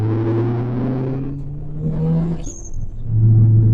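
Car engine driving at light throttle, a low steady hum and rumble that dips briefly, then swells slightly louder near the end, close and fairly loud with no talk.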